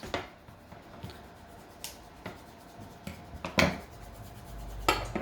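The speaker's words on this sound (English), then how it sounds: "you clip open the edges with the scissors" A handful of sharp, separate snips from scissors cutting, spaced unevenly with quiet pauses between them, close by.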